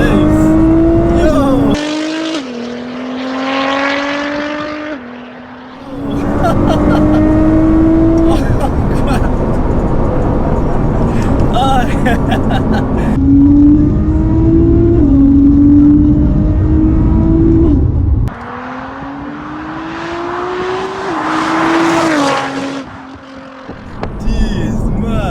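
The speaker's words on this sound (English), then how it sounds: "going to show us what this GTR is made out of" A 700 bhp Nissan GTR accelerating hard, the loud engine climbing through repeated rising sweeps with abrupt drops at gear changes and brief quieter gaps, heard from inside the car with occupants exclaiming over it.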